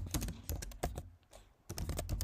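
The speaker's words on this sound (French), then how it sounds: "ce que je vous invite à faire, c'est directement cliquer sur votre clavier" Fingers type on a computer keyboard: rapid, irregular clicks close to the microphone, with a short pause in the middle before the tapping resumes.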